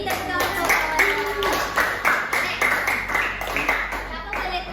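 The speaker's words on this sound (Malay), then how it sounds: "beri tepuk tangan kawan-kawan" Classroom of Year 6 children clapping their hands together in a burst of rhythmic claps, close and lively, with young voices mixed in.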